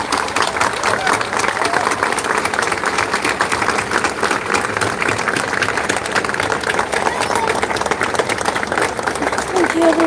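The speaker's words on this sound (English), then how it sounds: "when an actor passes away, that they are given the last round of applause" A crowd gathered in Cork, Ireland, gives a final round of applause for a deceased actress. The clapping is dense and sustained, holding a steady, full level for about ten seconds without a break.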